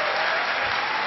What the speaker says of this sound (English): just one more round of applause for Josephine